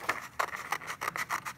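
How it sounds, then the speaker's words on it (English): Scissors snipping through paper while the sheet is turned to cut out a handprint tree trunk for an art project, a steady run of short close rasping cuts, about six strokes, with no talking. "I'm just turning the paper as I go, so my scissors stay in the same direction."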